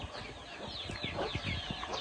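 Chickens clucking and cackling in a village yard in the morning, several short bursts repeating irregularly at moderate distance over quiet background.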